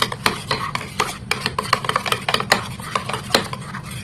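A spoon stirring mango pieces into batter in a bowl, giving rapid irregular clinks and scrapes against the sides, close and fairly loud with no talking.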